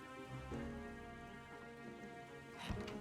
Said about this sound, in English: Man, this rain is really playing with my nerves.